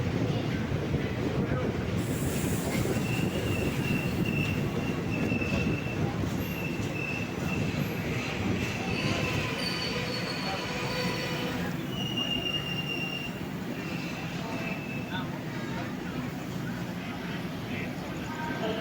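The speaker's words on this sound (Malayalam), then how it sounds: "തൃശ്ശൂർ സ്റ്റേഷനിലേക്ക് എത്തി നമ്മുടെ ട്രെയിൻ" A KSR Bengaluru InterCity SF Express train rolls steadily along the rails with a continuous rumble and faint wheel squeal, slowing as it pulls into Thrissur station; loud and close throughout.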